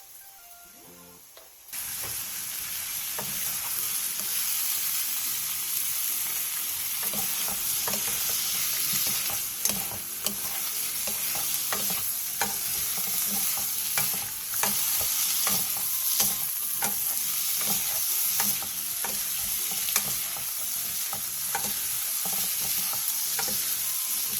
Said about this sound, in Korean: 팬에 기름을 두르고 감자, 당근, 다진 마늘 1스푼, 소금 반 스푼을 넣고 중약불에서 원하는 정도의 익힘으로 볶아주세요